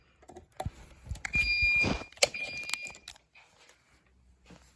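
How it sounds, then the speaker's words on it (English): A Gentex Commander 3 fire alarm set to 2400 hertz gives short, faint high-pitched tones amid rustling and clattering handling noises. "Get the Gentex Commander 3 on 2400 hertz."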